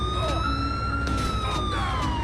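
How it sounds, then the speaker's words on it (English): Ambulance siren in GTA 5, a loud continuous wailing tone that slowly rises and falls, heard alone and close throughout. "Wait a second, what's that siren sound?"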